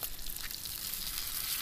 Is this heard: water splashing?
no